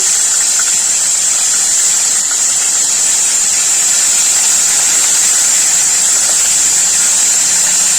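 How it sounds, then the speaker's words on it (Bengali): Bombay duck fish frying in oil in a pan, a loud, continuous, high sizzling hiss that stays steady and close throughout. "মাছগুলো একটু ভাজা ভাজা হোক মাছগুলো আমি একটু উল্টে দেবো"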